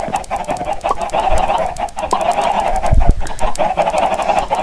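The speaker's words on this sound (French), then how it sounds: "Avec toutes nos amies les poules" Video game chickens clucking and murmuring in a steady flock chorus, with scattered short calls over a continuous background, fairly loud and close.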